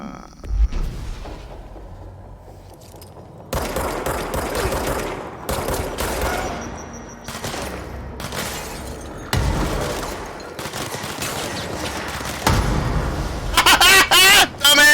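Gunfire from a firefight with enemies in the video game Control, with bursts of rapid automatic shots and booming impacts, loud and close, separated by quieter pauses.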